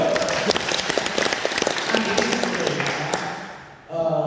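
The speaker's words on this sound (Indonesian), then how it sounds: "Tepuk tangan, yuk." Audience at a talk in a villa in Bedugul applauding, dense steady clapping from a crowd that fades out near the end before a voice starts speaking.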